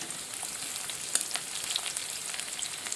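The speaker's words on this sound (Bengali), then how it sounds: "এরপরে ছাতুটা ভালো করে ভেজে নেবে।" Wild chhatu mushrooms fry with onion in mustard oil in a kadai, giving a steady close sizzle dotted with small sharp crackles and pops.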